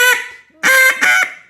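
A 1964 EV Iverson ebony duck call blows a hail call: a long loud honking quack, a pause, then two more strong drawn-out quacks in quick succession, close and alone.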